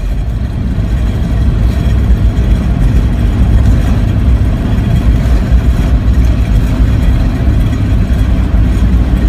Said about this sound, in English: I became the only person in world history ever to ride on an Isetta as it was being pulled behind a Range Rover